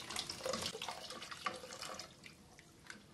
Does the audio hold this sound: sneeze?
no